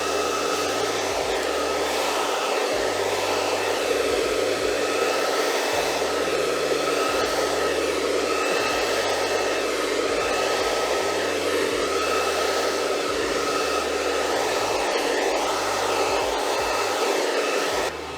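A hair dryer blows steadily and loudly throughout while a client's hair is blow-dried during a Vanguard haircut, its airflow shifting slightly as it moves around the head, with no talking.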